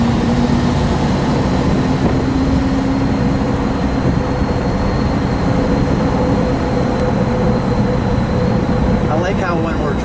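A supercharged 1957 Ford Fairlane 500 Skyliner with the F-code engine drives along, heard from inside the cabin as a loud, steady engine and road drone with a constant low hum that holds unbroken throughout.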